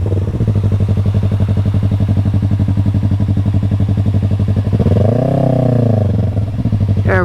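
A motorcycle riding figure eights at night, its engine puttering loud and close in a steady idle-like rhythm, then swelling in a short rev as it swings through a turn before settling again.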